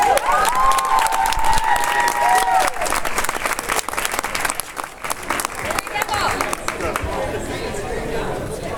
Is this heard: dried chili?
no